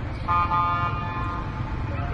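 Car horn toots in a street in the town of Sapa, a short honk over rumbling traffic and low background murmur.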